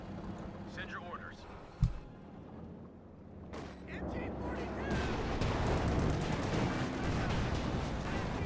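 Tank battle in Company of Heroes 2 with Panther IV and Sherman tanks, shells bouncing off armor: scattered booms and a sharp close impact early on, then a thickening rumble of shots and explosions, with someone talking over the battle.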